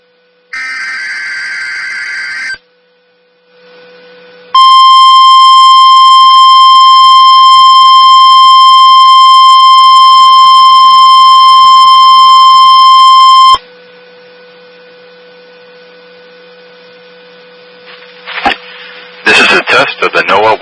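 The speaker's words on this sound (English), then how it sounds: "test of the Noaa weather radio warning alarm." A NOAA weather radio warning alarm test sounds as a loud, steady, piercing electronic tone held for about nine seconds. Quieter broadcast segments come before and after it, and a brief burst of noise arrives near the end.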